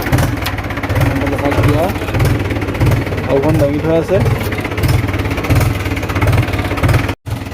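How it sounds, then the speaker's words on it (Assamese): A Mahindra 475 DI tractor engine idles close by with a steady low, rhythmic chugging throughout, while someone talks over it. "ট্ৰেক্টৰ হৈ গ'ল ষ্টাৰ্ট"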